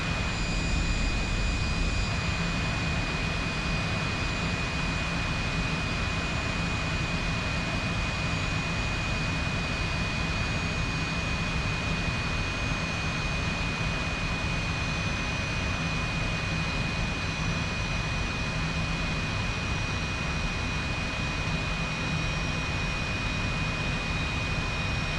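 An F-86 jet engine hums in flight in the DCS flight simulator game, a steady unbroken drone with a thin high whine held throughout, no voices.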